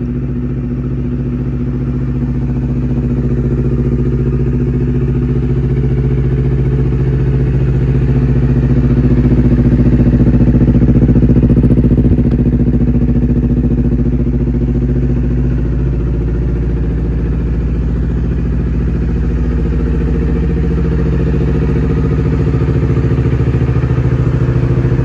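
A Honda CBR250RR motorcycle engine in Sport Plus mode runs loud and close for a long stretch, a low rumbling drone that swells slightly in the middle, with no speech.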